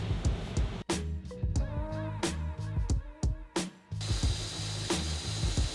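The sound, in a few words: drilling a 3/8 inch hole in a metal bracket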